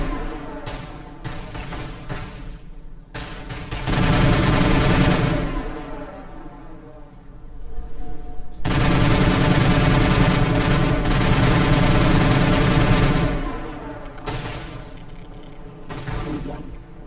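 Bursts of gunfire in the Mass Effect video game, sustained loud volleys in two long stretches with quieter gaps between them, no talking.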